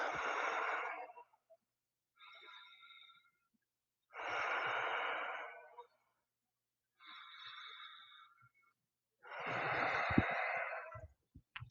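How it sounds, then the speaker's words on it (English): Deep, slow breathing held through a yoga pose: long, close, airy exhales alternate with softer, shorter inhales, repeating at an even, unhurried pace with silence in between. "Big deep breaths."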